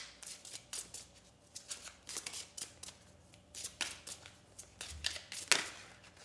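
Tarot cards being shuffled close by during a pick-a-card reading, a quiet series of quick riffling and slapping bursts in an irregular rhythm, with no talking.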